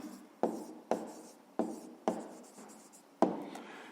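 Pen writing an answer on paper during a fifth-grade maths exercise, five sharp strokes starting roughly every half second to second, each trailing into a soft scratchy rub, close and alone with no voice.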